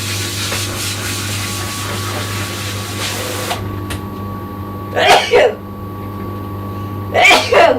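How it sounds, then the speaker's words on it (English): Two sharp sneezes a couple of seconds apart, loud and close, after a stretch of steady background hum. "I have never sneezed so much in my life."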